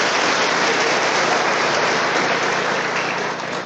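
A large audience at an indoor motivational event bursts into sustained, dense applause, steady and loud throughout with a slight tapering at the end and no talk over it.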